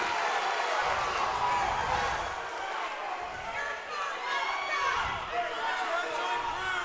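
A wrestling crowd at a high school dual meet roars loudly and steadily, with cheers swelling and dipping over the whole stretch, and a commentator's voice running beneath the noise.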